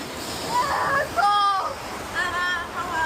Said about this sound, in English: Oh no, not a waterfall!